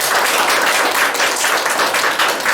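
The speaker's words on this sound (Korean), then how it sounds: "박수로 받아가겠습니다." A church congregation at a Korean Sunday service bursts into loud, sustained applause, steady, close and full-bodied throughout, with no voices over it.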